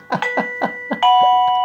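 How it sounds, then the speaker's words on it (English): A Blurams plug-in doorbell chime plays a short, bright, multi-note tune. The tones are clear, close and loud, and the final note rings out. "This is your plug-in doorbell, and whoever made the music for it was tripping balls"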